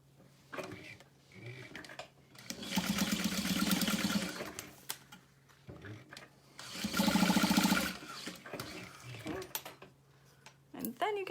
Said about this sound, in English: I like to sew across both